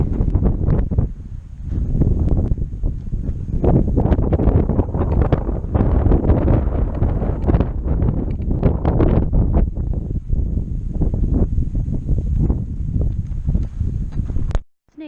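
Strong steady wind buffeting the microphone along a carriage trail at Minnewaska's Castle Point, a constant loud roar with gusty rustle and no clear speech.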